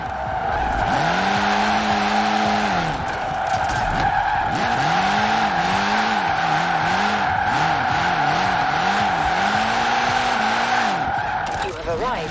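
Fiat X1/9 drifting in Forza Horizon 4, loud sustained tire squeal with wavering pitch sweeping up and down over a steady engine drone, several long slides back to back, with a voice talking faintly beneath.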